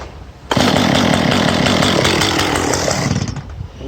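A loud chainsaw engine with a poorly set idle runs roughly, sputtering unevenly before beginning to falter and die down near the end.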